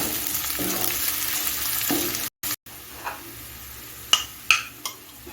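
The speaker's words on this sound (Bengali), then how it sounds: "তিরিশ সেকেন্ডের মতো একটু ভেজে নিচ্ছি রসুন কাঁচা লঙ্কা দিয়ে পেঁয়াজটা" Garlic, green chili and onion fry in a pan over medium gas, giving a continuous soft sizzle broken by a brief dropout and a few sharp utensil clinks and scrapes toward the end.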